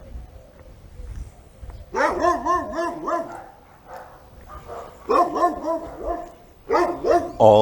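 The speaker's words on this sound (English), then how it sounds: "Dogs are going to make a little noise" Dogs in a neighborhood near the Freights Bay cliffs bark in several loud bursts, some in quick repeated volleys, with quieter gaps and faint background noise in between.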